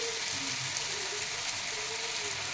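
Steady sizzling of vegetables frying in a pan as soy sauce goes in for a homemade pasta dish, a dense continuous hiss with no voices.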